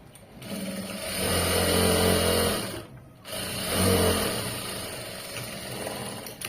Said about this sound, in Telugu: ఎడ్జ్కి ఇంకో స్టిచ్